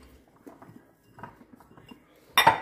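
A utensil scrapes and clinks lightly against a dish while olive oil, garlic powder and pepper are mixed together, with soft, scattered taps that end in one sharper, louder clink of metal on the dish.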